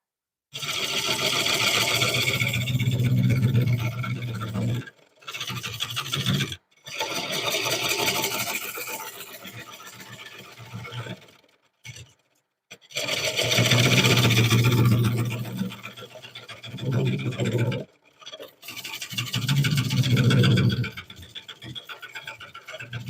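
Wood lathe spinning a cypress bowl as a gouge cuts, a rough continuous scraping whir in long bursts broken by short pauses.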